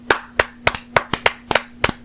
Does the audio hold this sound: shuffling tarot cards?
no